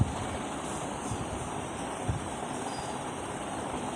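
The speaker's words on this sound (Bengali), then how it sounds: "মাছগুলোকে ভেজে নিচ্ছি" Rohu fish frying in mustard oil gives a steady, close crackling sizzle with a constant hiss and scattered pops, unbroken for a few seconds and free of voices.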